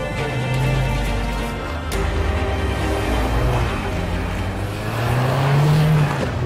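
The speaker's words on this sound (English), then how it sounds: "The four-wheel drive in these conditions in the snow is just fantastic." A 2013 Audi A1 quattro with a six-speed manual and all-wheel drive drives through snow, its engine droning loud and close from inside, rising and falling with the revs, and faint speech is mixed in.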